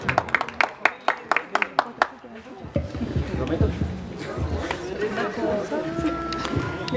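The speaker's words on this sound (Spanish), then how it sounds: "Fuerte el aplauso que se escuche para ella" Several sharp claps at a mariachi anniversary celebration, then a burst of applause and crowd chatter for a singer, moderately loud with voices talking over it.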